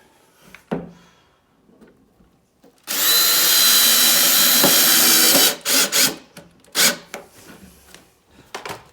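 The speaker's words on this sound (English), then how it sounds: "I'm just going to start screwing them in" Power drill driving a screw into a 2x2 wood shelf frame: a loud, close whirring burst of about two and a half seconds, framed by clunks and knocks of handling wood and tools, no talking.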